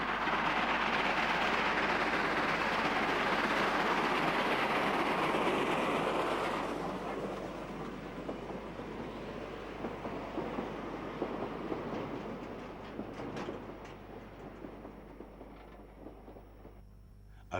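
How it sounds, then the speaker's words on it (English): Steam locomotive GO 2575 hauls a short mixed train between Mission and De Vlei, a loud rolling rumble of wagons that eases off partway, leaving fainter clicking wheels and rail noise. "GO 2575 works a short mixed train between Mission and De Vlei."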